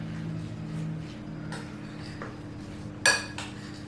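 Chicken dumpling filling is lifted and dropped in a bowl to work in egg, giving faint soft clinks of a utensil against the dish over a low hum, with one sharper knock near the end.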